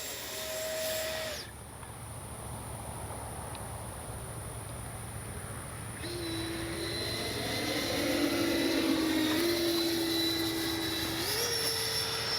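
Freewing 70mm F9F Panther electric ducted-fan RC jet in flight, a sustained whooshing fan whine whose pitch drops and then climbs in steps as throttle changes, moderately loud with no talk.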